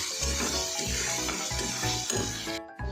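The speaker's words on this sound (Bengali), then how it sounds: "জিরে গুঁড়ো, একটু ভেজে রাখা ধনে গুঁড়ো, অল্প একটু গরম মশলা দিয়ে এটা আবারও ভালো করে কষে নেব" Ground cumin, coriander and garam masala stir-fried in oil in a pan for a mustard catla fish curry, with a constant close sizzle and irregular scraping stirring strokes throughout.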